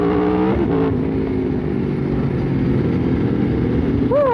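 Aprilia RSV4 sport motorcycle pulling away through city streets, its engine loud and close, rising in pitch as it revs and accelerates, with a brief shift and another climbing rev near the end; no talking.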